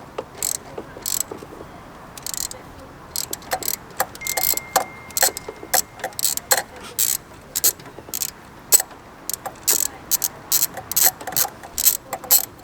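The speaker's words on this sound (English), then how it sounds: "Right then, let's get this bolt out." A ratchet spanner clicks in quick irregular bursts while undoing a 10mm bolt on a Renault Megane RS, close and crisp, with short pauses between runs of clicks.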